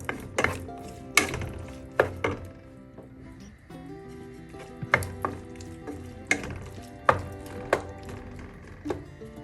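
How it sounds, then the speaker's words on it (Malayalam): Tomatoes sautéing in a pan for a king fish curry made with kudampuli, heard as a run of sharp, close clacks and scrapes of a utensil stirring against the pan at an uneven rhythm, with no talk. "തക്കാളിയെല്ലാം നന്നായി വഴലിട്ട്"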